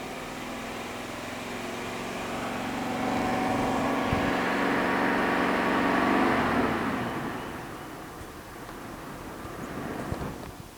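A car engine revs up to about 2,500 RPM for an exhaust back pressure test. The tone climbs and holds steady and loud for several seconds, then falls back to idle, with a brief burst near the end.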